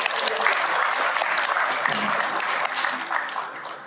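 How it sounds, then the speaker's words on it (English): An audience at a members' reception breaks into warm, steady applause that holds strong for several seconds before starting to taper off. "Let's round of applause."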